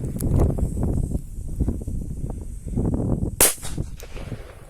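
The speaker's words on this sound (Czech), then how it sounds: "Jak předposlednou petardu tu mám Cobra 1 a zkusíme si ju zapálit." A Cobra 1 firecracker, a small 1-gram petard, goes off outdoors with a single sharp, loud bang after a stretch of quieter rustling and handling noise.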